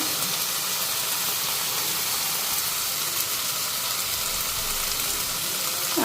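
Ghee and garam masala hiss loudly in a pan with cooked banana flower, a dense, even sizzle that holds steady throughout.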